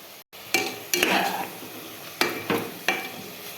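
A spoon stirs meat with potato, chilli and broccoli in a pan, giving a handful of scraping strokes over a soft sizzle, close and without speech.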